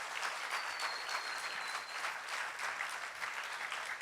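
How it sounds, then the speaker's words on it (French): An audience at a French talk applauds warmly, dense steady clapping from a crowd that holds at an even level for the whole stretch. "On peut les applaudir bien fort"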